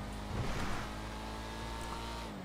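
The engine and exhaust of a Mahindra Thar in the GTA 5 video game roar steadily in a fast drive, a brief swell near the start, with no voices.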